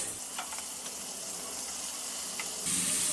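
Boiled beans hit a hot frying pan, giving a steady hiss of sizzling oil that swells louder near the end, alone and close.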